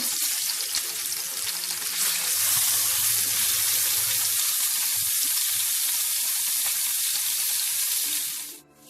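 Salmon fillet frying in a pan after being flipped, a continuous loud sizzle and crackle holding steady for several seconds before cutting off abruptly.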